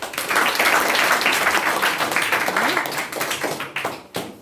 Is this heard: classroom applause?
yes